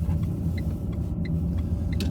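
Steady low engine rumble from inside a car as it slows on a driving-test route in Bletchley, running continuous and fairly loud with no clear gear-change break.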